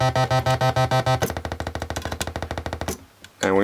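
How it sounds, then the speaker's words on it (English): Three slow oscillators from a DIY modular synth feeding an unbuffered mixer, producing a buzzy, pulsing drone of rapid repeating throbs that shift in rate and tone, ending in a brief noisy swell. "here's just 3 oscillators quite slow into the unbuffered mixer"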